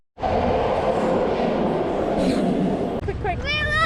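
A BART red line train to Richmond in the San Francisco Bay Area rumbles steadily from inside the car, with a brief squeal at the end as it moves along the track.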